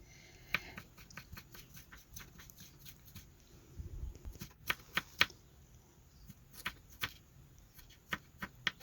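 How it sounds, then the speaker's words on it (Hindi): Ginger and green chillies being chopped with a knife on a board, an irregular series of quick, sharp taps with short pauses between bursts, close and fairly quiet, with no talk. "तो अब हम काट लेंगे जल्दी से अपना अदरक, हरी मिर्चें, बाकी चीज़ें भी सारी की सारी हम साथ ही काट लेंगे।"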